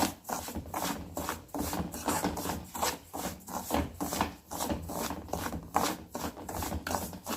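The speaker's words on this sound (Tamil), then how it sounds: "இந்த ரவையும் இப்போ நல்லா வறுத்துக்கிறோம்" Semolina (rava) being dry-roasted in a pan for rava laddu, heard as a steady rhythmic scraping and rubbing as a spoon stirs the grains, repeating roughly every half second, close and moderately loud with no talking.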